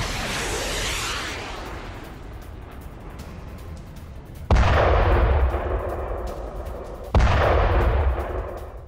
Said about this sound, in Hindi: हिजबुल्ला ने एक साथ दागे हैं कई रॉकेट